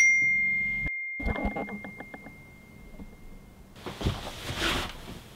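One bright electronic chime from a phone's text message alert opens the scene and rings out, fading over a second, followed by soft knocks, shuffling and rustling nearby.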